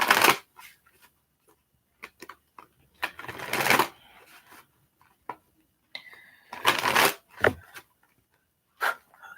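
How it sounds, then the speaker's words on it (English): A deck of cards is shuffled in several quick riffling bursts, each a close, crisp flutter of a second or so, separated by short pauses with light handling clicks. "I need to reshuffle that"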